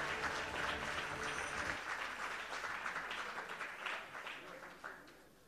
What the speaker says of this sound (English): Oh, keep the applause going for Marjorie